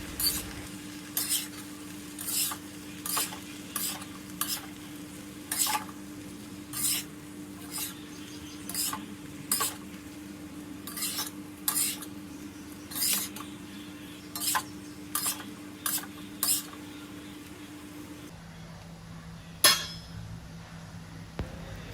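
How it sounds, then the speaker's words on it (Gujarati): Regular scraping strokes of a spoon stirring poha with potatoes and vegetables in a pan over a low flame, a faint sizzle underneath, repeating about every second for nearly twenty seconds, then a single clink. "ધીમા ગેસની ફ્લેમ પર તેને 5 મિનિટ સુધી આ રીતે મિક્સ કરીને સાંતળવાનું છે"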